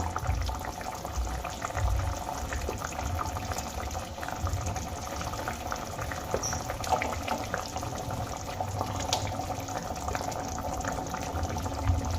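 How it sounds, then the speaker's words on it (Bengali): Spinach gravy simmering in a cooking pot, a steady close bubbling and gentle burbling that runs evenly throughout with no voices. "এখানে গ্রেভি খুব সুন্দর করে ফুটে গেছে"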